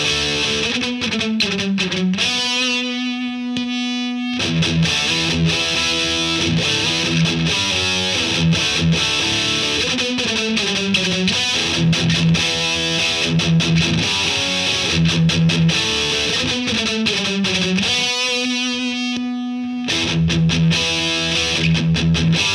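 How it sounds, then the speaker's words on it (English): A heavily distorted electric guitar, played through an amp pushed by an overdrive pedal, chugs and riffs loudly and continuously, with repeated palm-muted patterns and sustained chords and no voices. "just a different overdrive pedal and compensating with the tone stack, EQ, and mic position to get the differences you hear"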